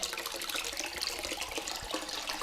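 Stream water being splashed and rinsed over someone, a steady close rushing and spattering wash that runs continuously without pauses or voices.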